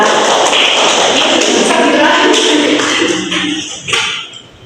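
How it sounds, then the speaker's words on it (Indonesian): A small group in a classroom guidance session claps together in dense, steady applause that stays full for about three seconds, then thins out and fades. "Oke, aplaus untuk kita."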